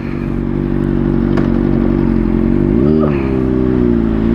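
A Honda CBR600RR fitted with a Toce slip-on exhaust, baffle still in, idles loud and close with a steady buzzing drone, then blips briefly with a quick rise in pitch before settling back.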